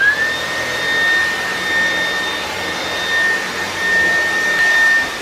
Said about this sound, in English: I'm gonna go vacuum every room now.